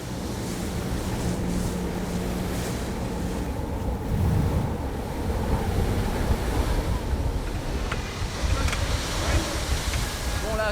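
Gale-force wind of around 50 knots blows at sea beside rocks on an anchored diving expedition boat, a loud, constant roar of wind buffeting the microphone over surging waves, with faint voices underneath.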